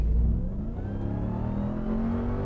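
A 2022 Dodge Ram 1500 TRX pickup engine revs up close, its deep rumble climbing steadily in pitch as it accelerates, with no talking.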